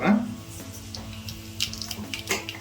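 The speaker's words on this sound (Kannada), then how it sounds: "ನೋಡಿ ಕಡಲೆ ಬೀಜ ಸ್ವಲ್ಪ ಫ್ರೈ ಆಗ್ತಾಯಿದೆ ನನಗೆ." Peanuts fry in hot oil in a pan while cooking Maharashtra-style ottu shavige, a light crackling sizzle with small scattered pops under a faint background hum.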